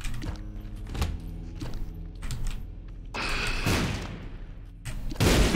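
Booming blasts go off in a video game, with a heavy burst partway through and another loud hit at the very end over a rumbling background.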